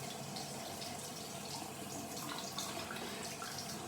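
Tap water runs as a razor blade is rinsed, a soft continuous splashing stream with faint drips, quiet and steady from start to finish.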